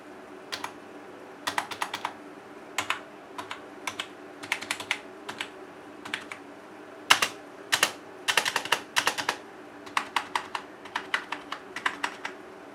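Keys on a non-mechanical gaming keyboard are typed in quick, uneven bursts of crisp clicks and clacks, close and fairly quiet, with short pauses between runs and no voices.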